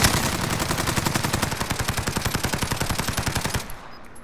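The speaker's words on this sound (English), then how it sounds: "Oh, he's shooting at me." Rapid automatic gunfire from an enemy in a duo match of a shooter video game, a loud, steady burst of evenly spaced shots lasting several seconds before cutting off abruptly, with no talk over it.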